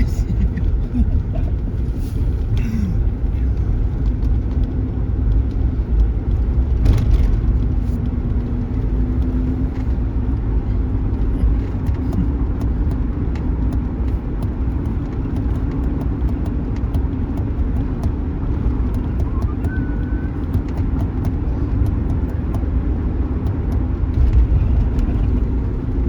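A car drives through downtown streets, its engine rumbling low and steady with continuous road and tire noise, close and fairly loud throughout, with faint occasional voices underneath.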